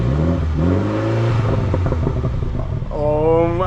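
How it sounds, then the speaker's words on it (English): Mini Cooper fitted with a cheap performance exhaust revs from idle, rising and falling in quick throttle blips heard from outside the car, with a rough raspy exhaust note and a final climbing rev. "get in the car and then you rev it"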